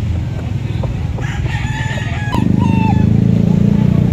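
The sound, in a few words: roosters crowing at gamefowl market in Lipa City, Batangas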